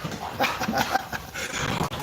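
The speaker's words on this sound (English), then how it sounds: "The puppy dogs are playing." Puppies playing on a patio, with quick, steady panting and soft rustling close by, continuous throughout.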